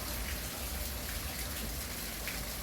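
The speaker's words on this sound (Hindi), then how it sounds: "ये मशीन चल पड़ी है तो हम आपको नज़दीक से दिखाते हैं कि किस तरह पत्थर पानी से कटाई की जाती है" Marble stone cutting machine slicing stone with water, a dense continuous hiss and spray like heavy rain, loud and steady throughout with no talking.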